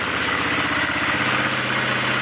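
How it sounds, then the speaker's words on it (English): A 1974 Honda CB 360 twin motorcycle engine idles steadily up close, a loud even low putter with a regular rhythmic pulse and no voices. "It's actually idling pretty well right now"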